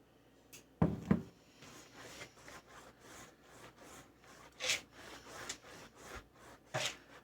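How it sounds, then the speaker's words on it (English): A pastry brush rubs oil across the underside of pizza dough in soft, close bristly strokes, with a thump near the start and a couple of brighter scrapes later. "Getting a good brush on the underside here."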